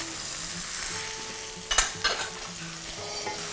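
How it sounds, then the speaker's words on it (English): Tomatoes dropped into a hot pan for a South Indian fish curry, giving a steady close sizzle with a burst of louder crackling and spatter as they land, then settling back to a quieter fry. "so I'm just going to put these tomatoes in."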